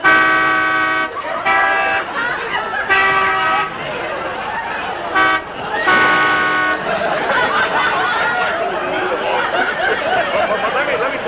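A man imitates a Canada goose with his voice, giving a run of loud, nasal honk-like calls in short bursts, then a longer stretch of mixed vocal noise.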